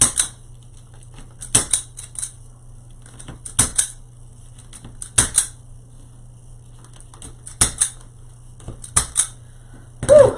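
Scissors snip through bundled raffia strands on a triangle wreath board, a series of short sharp crisp cuts spaced irregularly over a quiet background, close and distinct.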